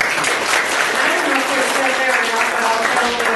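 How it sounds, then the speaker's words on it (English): An audience at a watershed management plan annual review meeting claps steadily, a dense, loud, continuous patter of many hands with faint voices mixed in. "We were remiss, we should have all been out here and clapped for him."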